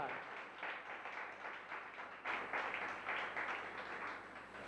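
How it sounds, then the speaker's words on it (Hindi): A spiritual gathering's audience claps together, a faint, steady patter of many hands continuing for several seconds with a slight surge midway. "ताली बजाओ एक बार"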